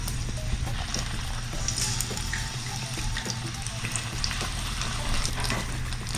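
Avocado egg rolls sizzle steadily in hot oil at about 375 degrees, a continuous bubbling hiss with faint crackles, close and moderately quiet, with no talking.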